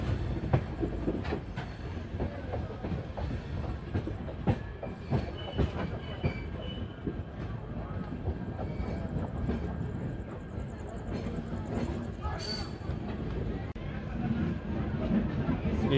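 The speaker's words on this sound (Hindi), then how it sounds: "अराइवल हो रहा है हमारा टिटलागढ़ जंक्शन रेलवे स्टेशन पर।" Durg Puri Intercity passenger train pulling into Titlagarh Junction station in India, wheels clacking over rail joints and squealing as it slows, with a continuous carriage rumble and a voice talking over it.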